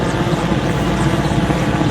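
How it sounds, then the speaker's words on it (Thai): A military helicopter passes nearby over a park in Din Daeng, its steady rotor and engine drone rumbling continuously and fairly loud throughout, with no talking. "ก็มีเฮลิคอปเตอร์บินลงมา"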